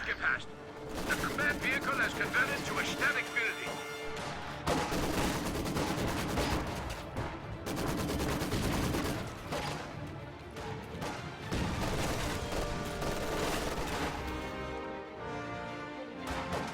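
Gunfire and heavy high-explosive artillery crash in dense, overlapping bursts through a WWII-style real-time strategy game battle on infantry, sustained and loud, with a commentator talking over the din.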